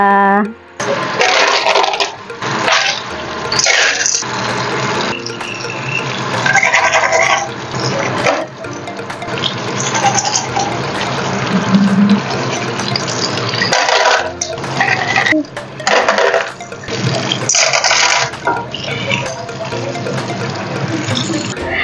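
Ingredients for a Chinese soup are rinsed one at a time under a running tap, with a steady gush and splash of water that rises and falls while someone talks over it.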